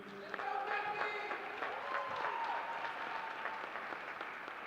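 Audience applause at a county spelling bee as a speller is called out, sustained clapping from a hall crowd, steady and moderately loud, with a voice speaking over it.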